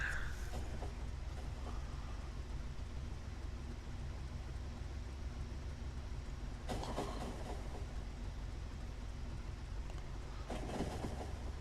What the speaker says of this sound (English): Man, that's quite the train car.